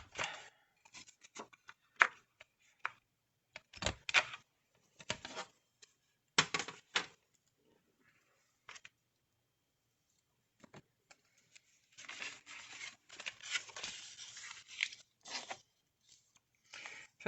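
A paper card for an envelope being cut with scissors, heard as quiet, close snips and crisp rustles in short, irregular bursts separated by pauses, ending in a longer run of cutting.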